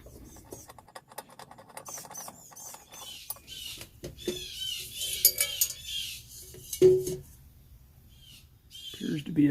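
A screwdriver turns the flat screw of a Wenzel kerosene lantern check valve held in a vice, giving intermittent metallic clicks, scrapes and squeaks at close range while someone talks.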